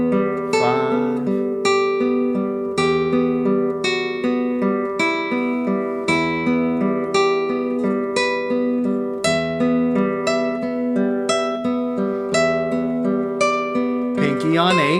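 Classical guitar playing a steady arpeggiated passage of Romanza with a half barre, picked notes ringing continuously and evenly up close, solo with no voices.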